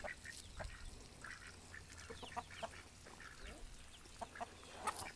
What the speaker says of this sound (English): here comes another one of the ducks wants to come out and eat